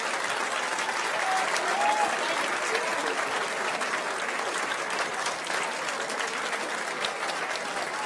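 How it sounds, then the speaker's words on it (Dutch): A large audience at a sports and business award ceremony gives sustained applause, a steady dense wash of clapping that holds evenly for several seconds, with faint crowd murmur mixed in. "Een heel groot applaus."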